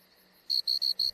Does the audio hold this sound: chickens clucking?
no